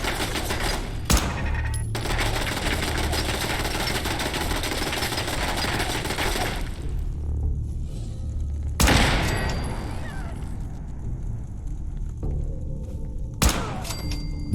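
Sustained video-game gunfire in Fallout 4 aimed at a Mark 1 turret, a dense rattle of shots for several seconds, then a quieter stretch broken by a few sharp bursts and thuds.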